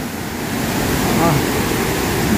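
A waterfall in Meghalaya roars as a steady, close wash of broadband rushing water, continuous and loud for the whole stretch with no pauses.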